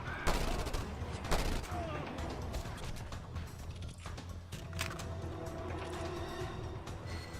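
Mounted gun firing in Just Cause 2 during a blockade assault, rapid bursts of loud automatic fire with crashing impacts and mechanical clatter, continuing across the stretch with a voice faintly under it.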